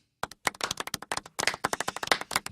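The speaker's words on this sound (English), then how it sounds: "Slow golf clap. Do we have the golf clap?" Scattered hand claps from a small group form an uneven, slow golf clap, with sharp separate claps that thicken into a loose patter after a short pause.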